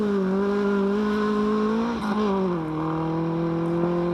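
A rally car at the 1993 Townparks Rally is driven hard on a stage, its engine holding a loud, strained note that dips briefly as it shifts and then pulls on steadily.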